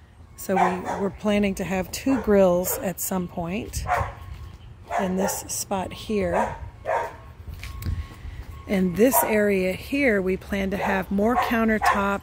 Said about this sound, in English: Sorry, that's the neighbor's dog.